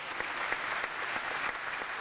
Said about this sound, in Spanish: un fuerte un aplauso y abrazo de todos los acá presentes